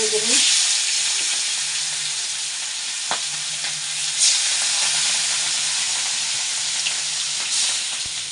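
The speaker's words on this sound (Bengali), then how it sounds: "এখানে আমার মাছ ভাজা হয়ে গেছে এই যে চার পিস পুলি মাছ আর এই যে রুই মাছ হয়ে গেছে" Pool fish and rohu fish fry in hot oil with a loud, steady, close sizzle and hiss, broken by a few sharp crackles and scrapes as the pieces are moved.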